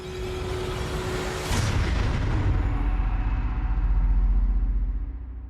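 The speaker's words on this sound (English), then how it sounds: "There were loud rumbling noises, and the earth shook." A deep, loud rumbling roar as the earth shakes and a primitive temple collapses, with a sharp crash early on, then sustained low-heavy rumble swelling and fading out.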